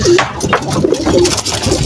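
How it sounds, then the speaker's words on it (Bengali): Pigeons coo repeatedly and close by as they are released from a home loft, soft throaty calls mixed with rustling and movement. "সব কবুতর ছেড়ে দিচ্ছি"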